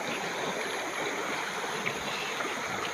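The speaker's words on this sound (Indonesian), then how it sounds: "Inilah Sungai Kuatan." The Kuatan river flows past, a soft, continuous rushing hiss of water that stays even and unbroken throughout, with no voices over it.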